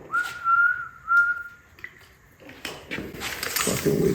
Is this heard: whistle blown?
yes